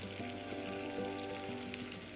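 Garlic cloves and curry leaves sizzle in a hot pan over a medium flame while rasam is made, giving a steady close crackling hiss with small pops and no voices.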